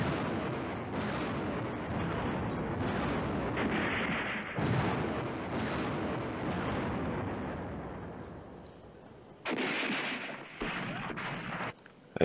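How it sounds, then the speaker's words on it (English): Repeated artillery bombardment in the Command Ops 2 wargame at Joe's Bridge, a dense, continuous roar of booming blasts with a few sharp high chirps over it, staying loud throughout and breaking briefly near the end. "Let's bomb him over there."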